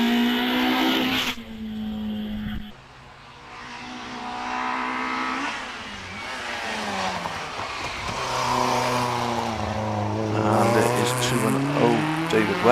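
A Peugeot 106 racing up a club hill climb course, its engine revving hard through gear changes with rising and falling pitch, loud and close, with a commentator talking over it.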